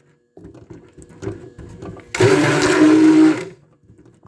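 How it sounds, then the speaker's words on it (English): An immersion blender whirs into cold process goat milk soap batter, a single steady motorized burst of about a second and a half that follows quieter stirring and handling sounds. "we're going to come in with our immersion blender, and we're just going to slowly mix this all together"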